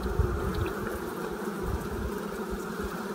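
A dense, steady buzz of many honey bees fills the space up close at an open hive frame, with no other sounds.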